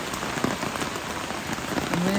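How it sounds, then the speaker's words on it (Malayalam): Heavy rain falling steadily in Kerala, a dense close hiss of drops pattering on surfaces throughout, with no clear speech. "മഴ പെയ്തിട്ട് നല്ല മഴയാണ്"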